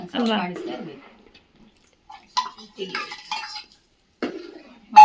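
A ladle scrapes and clinks against a pot while stirring rice-flour bottle gourd payasam, with a few scattered metallic taps around someone speaking.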